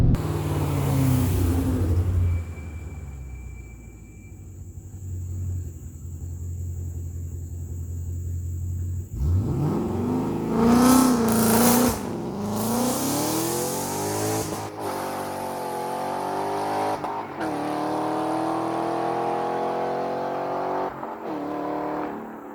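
Ford Mustang with an MT-82 manual transmission doing hard dig launches, engine idling and rumbling before a sudden loud rev and strained acceleration, then sustained roaring revs and shifts at close range, with no talk.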